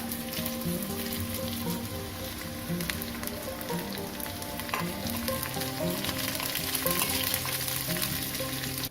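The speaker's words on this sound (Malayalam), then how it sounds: "ഒരു മൂന്ന് വറ്റൽ മുളക് ഈ വലിപ്പത്തിലുള്ള മൂന്ന് വറ്റൽ മുളക് നമുക്ക് രണ്ടായിട്ട് കീറി ഇട്ട് കൊടുക്കാം" Dried red chillies split in half crackle and sizzle steadily in hot oil with onion for a mango curry, a dense close frying hiss with occasional stirring, no voices.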